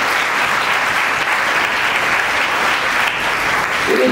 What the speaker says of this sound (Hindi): आपको धन्यवाद देती हूँ एक बार जोरदार तालियों से